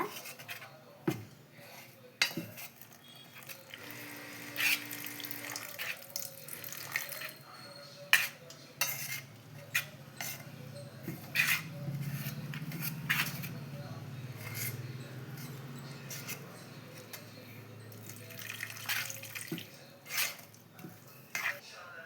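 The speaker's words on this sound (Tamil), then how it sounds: "அடுத்து தண்ணி ஊற்றி நல்லா கலக்கிக்கோங்க" Water splashes into a bowl, then a steady stirring and clinking of a utensil against the side as homemade kurkure batter is mixed to a thin, watery consistency.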